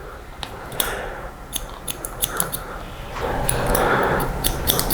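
Scissors snipping through hair during a 1990s-style men's haircut, a series of crisp metallic clicks in irregular bursts, close and fairly quiet over a soft background hiss.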